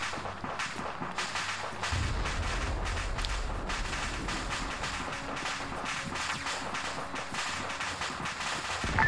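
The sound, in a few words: MP40 gunfire in video game Arma 3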